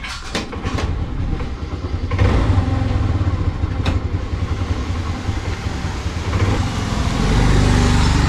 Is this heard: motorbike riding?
yes